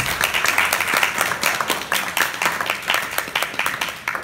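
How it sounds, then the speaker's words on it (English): Audience applause fills a ceremony honoring Korean War veterans at an armistice 70th anniversary event in Yountville, California, a dense steady crowd clapping that stays loud and continuous throughout. "So please give yourselves a round of applause."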